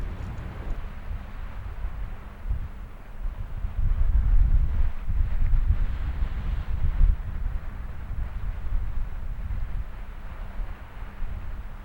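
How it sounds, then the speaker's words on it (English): Steady wind on the Atlantic coast of Argentina roars and buffets the microphone in a continuous low rush, swelling stronger for a few seconds midway before easing slightly. "It's still windy, but not as fierce as this morning."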